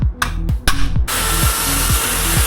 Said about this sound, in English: just drill a hole through this center point here